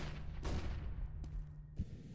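A thrown flashbang grenade in a Counter-Strike style match on the Nuke map, heard as a few sharp, fairly faint bursts and bangs spaced across roughly two seconds amid background game noise.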